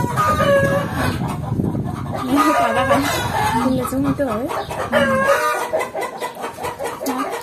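Laying hens about to lay eggs cluck and cackle repeatedly close by, their calls rising and falling over several seconds, with a person speaking briefly among them.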